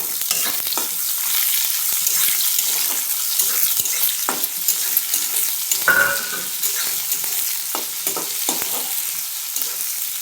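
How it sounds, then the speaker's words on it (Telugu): Mustard seeds and urad dal frying in oil with onions, a close steady sizzle with scattered crackles and spoon scrapes in the pan, no one speaking. "అవి కొంచెం ఫ్రై అయినాక ఉల్లిగడ్డలు వేసుకుందాం ఫ్రెండ్స్"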